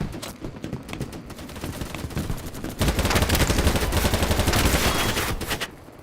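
Sustained rapid gunfire in a shooter video game, rattling bursts that swell into a dense, louder volley before tapering off, with no talk.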